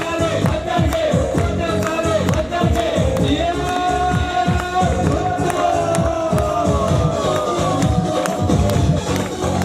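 Large crowd at a Pakistan Peoples Party workers' convention rally in Kahror Pakka, loud continuous cheering, whooping and clapping filling the space with a dense, sustained roar.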